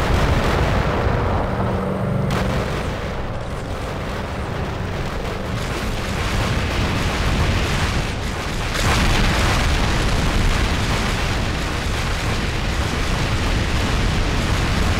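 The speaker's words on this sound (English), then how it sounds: "Onimzi has fired two nukes at Get Good, hitting Code Red very hard." Nuke blasts in a Minecraft mech battle game produce a heavy, continuous explosive roar and rumbling booms that stay loud from start to finish, with a fresh surge partway through.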